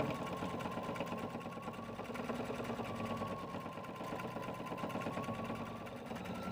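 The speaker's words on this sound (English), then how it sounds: "we're going to stitch all the way down, holding this top tab in place as well" A sewing machine stitches steadily down an elastic casing, holding a top tab in place, its rapid even whirring running continuously and close up with no talk.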